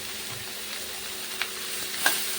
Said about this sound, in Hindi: अब मैं इसी घी में अपनी गाजर को डाल दूंगी।